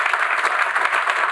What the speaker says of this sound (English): Clap it up for Eric, y'all.